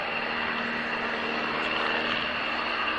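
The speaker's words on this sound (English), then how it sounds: "Max level speed of the Bulldog, 150." A Scottish Aviation Bulldog propeller trainer flies past at the Woodford Airshow 1998, its engine a steady, loud broadband drone that holds constant throughout with no speech.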